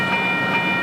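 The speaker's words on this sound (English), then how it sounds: "The railroad crossing behind me is bustling with activity as vehicles and trains make their way through." A TRAX light rail train rumbles steadily through a railroad crossing, a broad continuous roar with a faint high tone riding over it, close and loud with no pauses.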